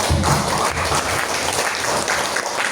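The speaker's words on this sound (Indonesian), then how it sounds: "Kita beri aplaus dulu gitu ya." An audience at a talk applauding, dense steady clapping from many hands that lasts about three seconds at close range.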